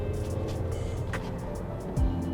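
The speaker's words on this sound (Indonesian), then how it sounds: "Tuh, mesinnya bikin ngebut terus ya." A 2017 Mazda CX-5 Elite SUV being driven, its engine giving a steady low drone with road noise from inside the cabin and a brief swell near the end, with no talking.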